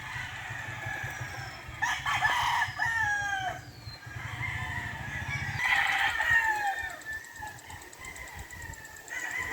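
McLean Hatch gamefowl bull stags crow repeatedly at a game farm, several roosters overlapping near and farther off, with clucks and a steady low hum underneath, no talking.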